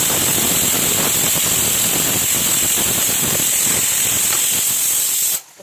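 Onions frying in oil in a pan with salt and garlic chili powder, a loud steady sizzling hiss filling the whole clip before cutting off at the end.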